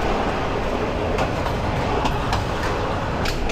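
Rumbling ride aboard the Chattogram University shuttle train, a constant dense roar of wheels on track with faint periodic clacks, close and steady with no talking.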